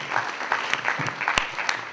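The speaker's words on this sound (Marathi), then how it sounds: "तर सुहाससाठी सगळ्यांनी एकदा टाळ्या वाजव्या असं मला वाटतं" Audience at a book launch for a book on Aamir Khan claps for Suhas, a brief burst of dense, steady applause from a room of people.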